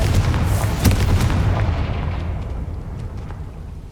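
A Confringo fire-blast spell explodes in the Hogwarts Legacy video game: one loud booming burst with a crackling impact, fading into a rumbling tail over a few seconds, with no voices.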